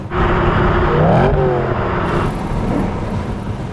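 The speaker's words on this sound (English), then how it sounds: "It's a lovely engine note, isn't it, when you do that heel and toe, you get that blip on the throttle" A 2007 BMW M3 with a manual gearbox and V8 gives a heel-and-toe throttle blip, the engine note rising in a quick loud rev and sweeping back down, heard close from inside the car.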